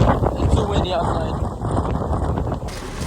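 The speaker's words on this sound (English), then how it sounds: "It's too windy outside." Strong Hurricane Milton wind roars and buffets the microphone in a dense, continuous rush of noise, with rain starting and a voice talking over it.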